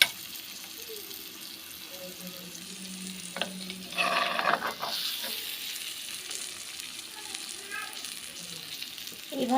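A small fish curry simmering in a pan in a home kitchen, a low steady sizzle with a brief louder burst of stirring and splashing in the middle, no talk.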